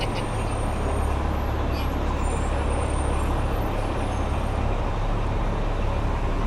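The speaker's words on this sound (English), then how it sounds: "We'll see how many buses we can walk faster then." City buses and heavy traffic roll along Fifth Avenue beside Central Park in New York, forming a loud, steady roar of engines close by with no breaks or clear gaps.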